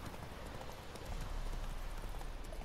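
Steady clip-clop of a ridden horse's hooves crossing rough ground in The Witcher 3, a continuous rhythmic patter at moderate distance without talk.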